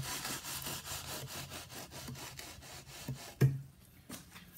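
Trowel edge slicing mortar along float strips while floating a tile shower curb, a soft rhythmic scraping repeated in steady strokes, faint and close, ending with a small knock.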